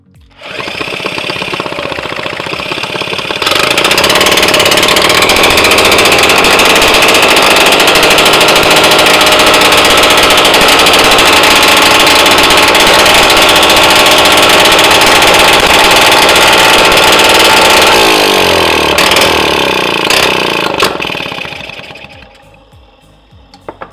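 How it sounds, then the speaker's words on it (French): A moped engine catches and settles into a loud, steady idle, running evenly for many seconds before cutting off. "ça marche, le moteur démarre"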